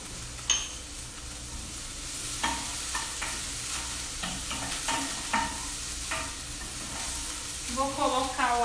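Vegetables sautéing in a hot pan for a vegetable pie, with a steady sizzle and frying hiss broken by repeated clinks and scrapes of stirring, close by and with no voices.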